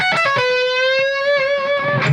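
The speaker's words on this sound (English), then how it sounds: "So we're bending from the 2nd up to the major 3rd again." An electric guitar with effects bends a string from the second up to the major third, with a few quick picked notes and then a held, sliding sustained tone, clear and close.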